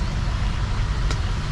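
Steady low rumble of road traffic jammed at Tanjung Api-Api port, car and truck engines idling and creeping close by, with a brief hiss like an air brake partway through.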